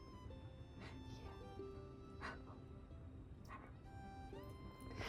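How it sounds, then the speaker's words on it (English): A dog making soft, muffled little barks and whimpers at low volume, several short yips scattered over a few seconds, close by and quiet. "I'm trying to teach him to whisper bark."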